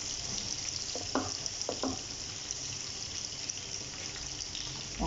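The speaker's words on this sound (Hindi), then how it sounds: "वन टेबल स्पून हम इसमें वाइट विनेगर डालेंगे।" White vinegar is poured into a pan while cooking sweet and sour chicken Manchurian, giving a couple of brief liquid splashes early on over a steady background hiss.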